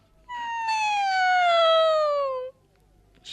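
A single long, drawn-out meow from a cat, clear and fairly close, gliding slowly downward in pitch before stopping abruptly.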